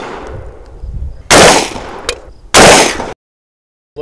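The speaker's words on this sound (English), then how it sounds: "This is a 45 ACP Remington R1, firing 45 ACP rounds at 230 grain" Two loud, close pistol shots from a Remington R1 firing heavy 230-grain .45 ACP rounds, about a second apart, each with a short ringing decay over indoor room noise.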